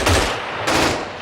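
Two bursts of gunfire from the video game Arma 3, each a loud, sharp crack with a ringing tail, the second following about half a second after the first.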